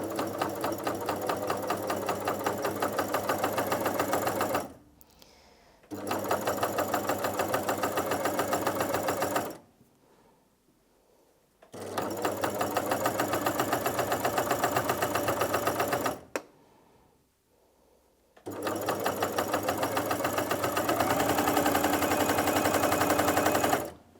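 A Janome CoverPro 3000 coverstitch machine stitches fabric in three loud, close bursts of rapid steady needle chatter, each lasting several seconds, with short quiet pauses between them.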